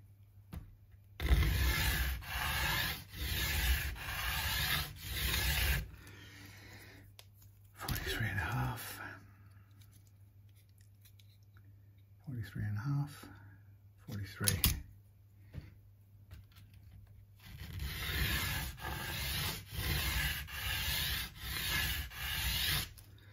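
A model car kit part is ground flat by hand against an abrasive, making loud rhythmic rasping strokes in two long runs, with a quiet stretch and some handling noise between them.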